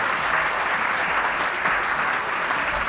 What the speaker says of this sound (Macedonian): Аплауз, режија!